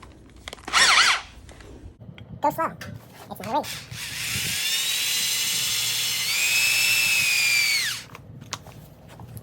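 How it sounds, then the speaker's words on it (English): An electric drill with a half-inch bit bores into part of a Harley-Davidson M8 ventilator air cleaner, whining steadily for about four seconds after short bursts, while someone talks before and during the drilling. "Half-inch drill bit"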